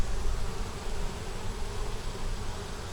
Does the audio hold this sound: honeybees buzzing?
yes